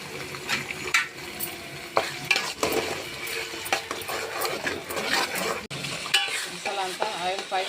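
Ground masala paste for fish curry sputters and sizzles in oil while a spoon repeatedly scrapes and stirs it around the pan, moderately close with irregular bursts.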